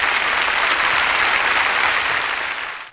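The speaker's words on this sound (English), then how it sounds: "Big applause" Dense, sustained audience applause from a studio crowd on a comedy radio show, steady and loud throughout before tapering slightly at the end.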